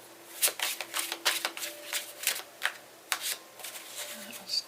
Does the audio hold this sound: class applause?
no